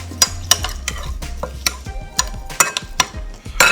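Korean lettuce salad with hot pepper flakes being tossed and mixed in a bowl, giving repeated close, sharp clinks and wet rustling strokes at an uneven pace. No one speaks.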